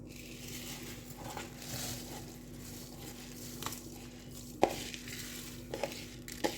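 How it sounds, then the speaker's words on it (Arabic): Rice is poured into a pot of boiling water, a soft rushing patter over a low bubbling simmer, followed by a few sharp clinks and knocks of utensils against the pot, close and quiet with no talk. "نبدا بقى نحط الرز بتاعنا"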